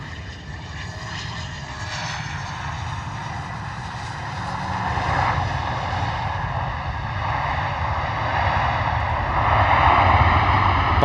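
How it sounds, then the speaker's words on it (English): A Bombardier Global 6000 business jet roars loudly on landing as its bucket thrust reversers deploy, a broad sustained engine rumble that swells toward the end. "Buckets for the reverse thrusts on, lots of noise there on the reverse"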